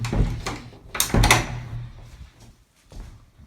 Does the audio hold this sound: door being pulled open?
yes